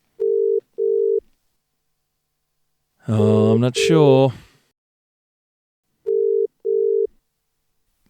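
Telephone ringback tones while calling a guest on a podcast: two short steady double beeps at the start and two more at the end, with someone briefly speaking in between.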